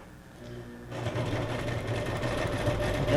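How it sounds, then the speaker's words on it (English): A sewing machine starts up and runs a continuous zigzag stitch through paper botanical ephemera, a close, fast, buzzing whir that holds steady after a quiet first second. "Just gonna do the zigzag here on some of the botanicals, because you know, sewing just makes everything look better."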